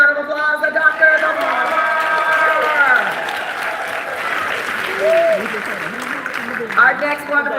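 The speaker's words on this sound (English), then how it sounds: "Give him a big round of applause." An audience at a live Women's Expo radio event gives a sustained round of applause for a doctor guest, steady clapping lasting several seconds while a person talks over it.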